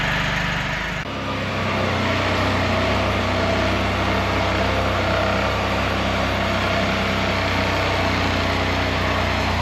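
An engine idles through a primary muffler delete pipe, a steady loud droning rumble that settles in after a short shift in tone at the start and then holds constant without talk.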